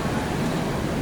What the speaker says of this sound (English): the wind in the trees,